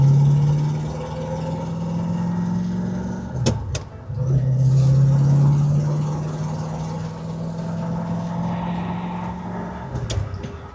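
A Chevrolet Corvette C4 engine drones steadily from inside the car while driving, with a low, even hum that shifts pitch briefly as gears change, plus a couple of sharp clicks from the cabin.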